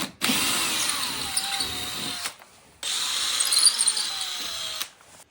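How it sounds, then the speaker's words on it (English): A power drill with a small bit whirs into a solid wall in two bursts of about two seconds each, separated by a short pause, loud and close, with no voices. "If we go in with a small drill bit, it will actually tell us if we're hitting anything behind"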